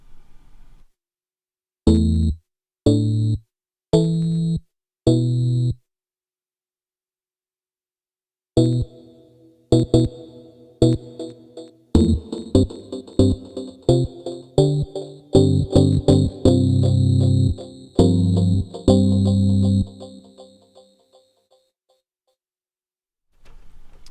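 Synthesizer chords play in short stabs, first spaced apart, then in a faster run, each note ringing out with echoing repeats and a lingering reverb tail.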